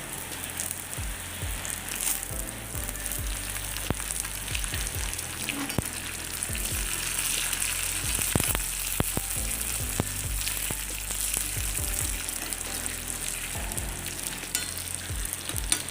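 Onions fry in hot oil for a curry, giving a steady, close, bright sizzle with occasional stirring clatter running throughout.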